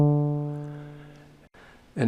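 Korg Volca Drum voice built on a sawtooth wave with sinusoidal modulation and a linear envelope: a buzzy pitched tone that decays steadily over about a second and a half, a brief dropout, then a fainter tail.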